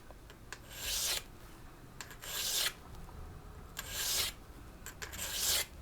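A fine grit tapered hand stone rasps along a figure skate blade in four separate strokes, each a short gritty scrape, close and fairly quiet, with no talking.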